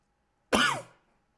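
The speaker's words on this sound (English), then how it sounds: "Sorry, still have a cough." A single harsh cough, close and fairly loud, then quiet.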